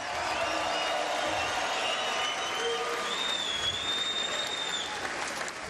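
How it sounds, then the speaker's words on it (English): Arena crowd applauding boxers after a four-round bout, a distant, even roar of clapping and cheering with faint whistles rising over it. "let's have a round of applause for these fighters"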